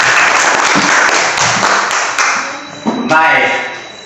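Schoolchildren clap together in a classroom, a loud sustained burst of applause with a teacher's voice over it.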